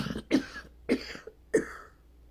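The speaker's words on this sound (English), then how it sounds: "sorry, I had to cough." Three separate coughs about half a second apart, close and fairly loud, from a person sitting up indoors while recovering from illness; no speech between them.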